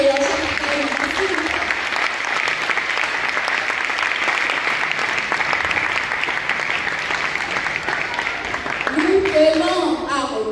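Sustained applause from a crowd at a church youth event fills the space, steady and loud throughout, with voices rising over the clapping near the start and end.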